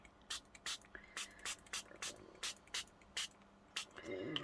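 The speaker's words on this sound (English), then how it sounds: "give it another spray." Repeated short hissing bursts from a spray bottle misting Pixie Powders on paper, about ten quick pumps in a steady rhythm, close and fairly quiet.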